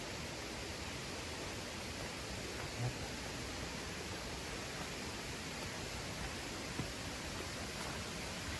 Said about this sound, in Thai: ผมก็ได้ถึงน้ำตกแล้วนะทุกคน